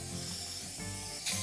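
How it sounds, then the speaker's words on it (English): Disinfectant is sprayed onto a kitchen countertop in a steady, close hiss that lasts over a second, ending in a brighter, sharper burst of spray. "You would spray the area"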